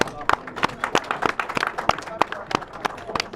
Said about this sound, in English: so let's clap for them, please